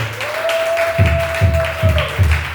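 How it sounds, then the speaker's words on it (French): A church congregation applauds in rhythmic, evenly spaced claps after a call to cheer, with a sustained sung or hummed tone running above the beat. "Est-ce qu'on peut acclamer pour la parole?"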